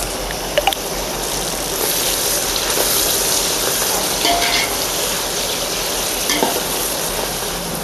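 Slit green chilies sautéing in a pan for chicken biryani: a loud, continuous hissing sizzle with occasional light clinks of a stirring utensil, no voices.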